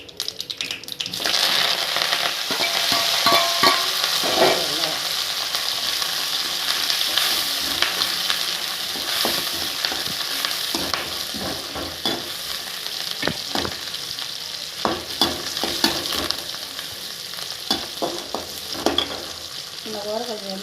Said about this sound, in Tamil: இதுங்க நல்லா பொரிட்டோம். இது ரத்த பொரியல்.